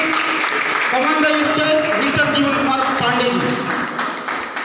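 Audience applause for Mr. Jeevan Kumar Pandey at an indoor gathering, a steady wash of many hands clapping close by, with voices over it throughout.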